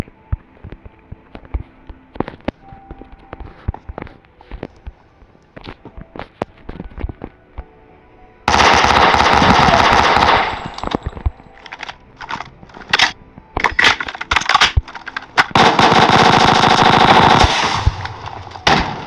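Rapid automatic gunfire in a Minecraft match, with scattered sharp shots early on and then sustained loud bursts of machine-gun fire that stop and start in dense clusters.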